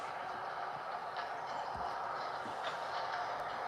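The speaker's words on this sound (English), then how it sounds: "This is the new train." A passenger train rolls by at a distance, a continuous mechanical rumble and hiss with faint rhythmic clatter, fairly quiet and steady throughout.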